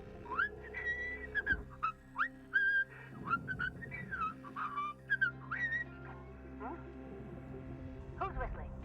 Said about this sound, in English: Who's whistling? No whistling!